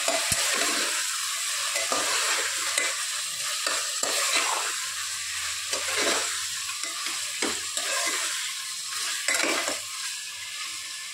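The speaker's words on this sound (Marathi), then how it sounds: "मटण पण आपण कलर चेंज होईपर्यंत परतून घ्यायचे।" Mutton pieces sautéing in a pan for nihari, a steady broadband sizzle with repeated scraping stirs of a spoon, close and continuous with no talking.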